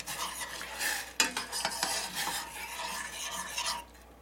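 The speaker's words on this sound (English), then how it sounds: "in goes the rice. Stir that, bring it to a boil again." Rice is stirred in a pot of boiling water with a utensil, giving soft scraping and swishing strokes with a few sharper clinks against the pot, close and fairly quiet.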